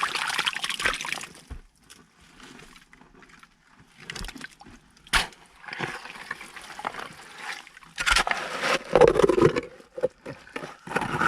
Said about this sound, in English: the actual water coming up.